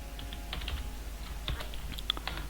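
Typing on a computer keyboard produces quick, light key clicks in an irregular run of taps, close and fairly quiet, with no voice over them.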